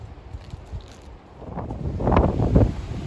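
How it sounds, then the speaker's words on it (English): Gusty wind buffets the microphone, rising to loud rumbling blasts with rustling noise toward the end. "So windy one. It's even blowing me away."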